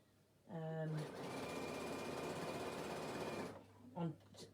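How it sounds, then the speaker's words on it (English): A sewing machine runs in one steady, continuous burst as it stitches fabric binding into a strap, with brief faint voice-like tones just before and after. "I'm going to carry on stitching, so I'm going to make this, the rest of this binding into a little strap"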